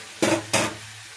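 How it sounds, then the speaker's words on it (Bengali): Vegetables are stirred slowly in a pan with two distinct scraping strokes a fraction of a second apart, each a brief rasp of the spoon against the pan over a quiet low hum. "আস্তে আস্তে এটাকে এখানে নাড়বো, একদম আস্তে করে নাড়বো"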